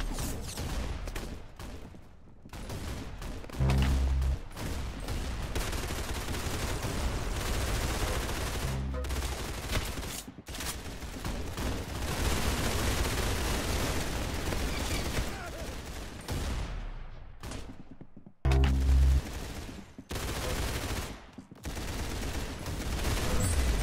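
Rapid automatic gunfire and shots ring out in the Roblox game Arsenal, loud and near, almost continuous with brief pauses and a few heavier blasts.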